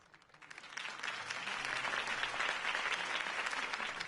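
A large crowd applauds in a Batman video game, the clapping swelling from a light start into steady, dense applause that carries on without a break.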